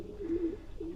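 Racing pigeons give soft, low coos, two short throaty calls close by in quiet surroundings.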